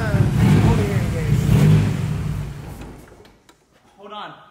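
Straight-piped Nissan S13 with a rotary engine swap revving loudly up close, a broad roaring drone that swells then fades, with people talking over it.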